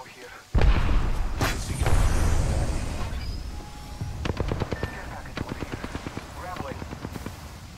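Automatic gunfire in Apex Legends opens with a heavy boom, then breaks into a quick rattling burst of close, evenly spaced shots that fades toward the end, with a voice speaking over it.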